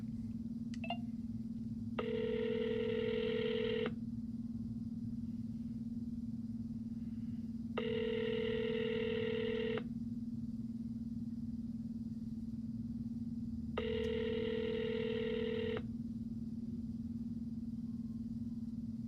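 An outgoing phone call ringing three times, each long, even electronic ring separated by a pause of about four seconds, over a steady low hum with no talk.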